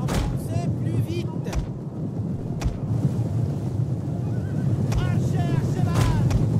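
Horses of mounted horse archers in the video game Total War: Attila, a Hun army attacking Rome, give brief whinnies and neighs over a steady rumble of battle noise and wind, with a voice speaking at points.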